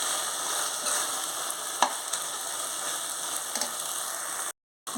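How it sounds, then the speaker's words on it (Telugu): A mutton keema mixture with a little yogurt is stirred in a pan over steady low sizzling, with a few soft scraping knocks from the spoon, a brief cut to silence near the end and no voices. "మళ్ళీ ఒకసారి కలుపుకుందాం."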